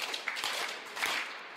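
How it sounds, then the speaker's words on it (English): Soft hand clapping before a Tibetan Buddhist Heart Sutra recitation, a few quiet broadband claps close by over a faint background, brief and low in level. "and you clap three times"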